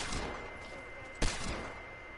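A single sharp gunshot cracks out mid-clip in Valorant over a steady background of game ambience and faint distant shots.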